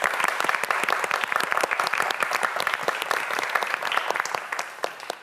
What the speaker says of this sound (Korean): 이현우 학생에게 다시 한번 큰 박수 부탁드립니다